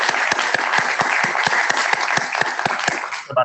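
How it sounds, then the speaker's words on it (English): Audience applause closing an online tech conference session, a dense steady wash of many hands clapping with regular sharper claps, filling the clip loudly before cutting off. "Please give a round of applause."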